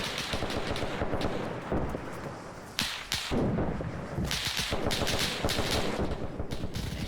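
Gunfire in a military video game, with bursts of automatic shots and sharp single cracks separated by short pauses, loud and close, with no talking.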